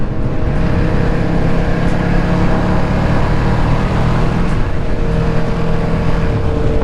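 Loud vehicle exhaust roars steadily at a car and motorcycle meet, a dense, unbroken engine drone heard from within a large riding group, with slight shifts in pitch but no clear passes.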